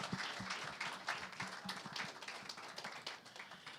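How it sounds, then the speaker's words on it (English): An audience applauds panelists at an event launch in Lagos, a faint, dense patter of many hands clapping throughout, heard from a distance. "A round of applause for our panelists"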